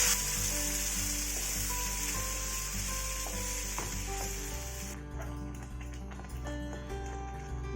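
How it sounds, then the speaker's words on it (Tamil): Ground onion, tomato, ginger and garlic paste sizzles steadily in a pan for chana masala, a loud continuous hiss that softens partway through, with a few faint taps and clicks. "இப்போ நம்ம வெங்காயம் தக்காளி இஞ்சி பூண்டெல்லாம் நைஸாக அரைச்சது"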